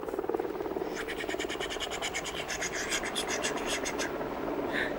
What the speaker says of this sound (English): It was a helicopter